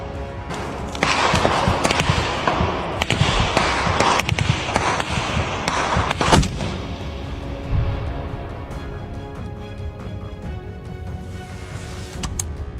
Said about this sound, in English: A Ukrainian soldier takes fire from a Russian position, returns it with a single shot.